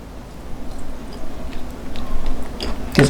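Boiled edamame, firm rather than overcooked, being chewed up close with soft, quiet crunches that grow into a few sharper bites near the end, with no talking.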